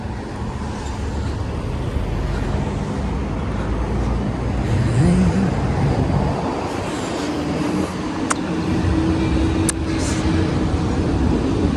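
Steady street traffic with many cars on a city road near Khalifa Street, a continuous low roadway rumble of engines and tires heard from the sidewalk, with a few brief higher passing sounds and no talking.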